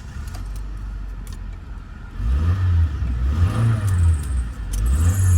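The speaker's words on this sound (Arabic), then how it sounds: "بس العربيه ماشيه كتير، بس صوت المكنه زي الفل" A high-mileage Mitsubishi Lancer with its original engine runs close by, a low rumble that swells as it is revved in several rising surges, with light jingling clicks over it.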